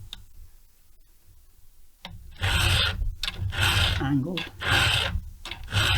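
Hand filing of a Stihl 070/090 chainsaw chain, a steady rasping file scraping metal in repeated strokes, loud and close after a quiet start, with a voice talking over it.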